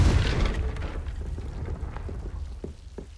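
A Confringo spell explodes in Hogwarts Legacy as a deep, rumbling boom at the start that decays into a crackling, rain-like hiss, with a few faint pops afterward.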